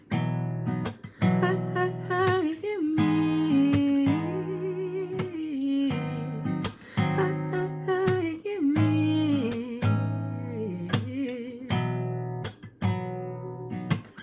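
Strummed acoustic guitar chords move through a slow progression from a song while a voice sings a melody over them, clear and close.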